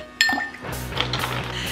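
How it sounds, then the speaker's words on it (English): Gin and fino sherry stirred over ice in a mixing glass, a sharp clink at the start and then a steady rhythmic rattle of ice and spoon, close and clear. "I'm gonna stir this over ice."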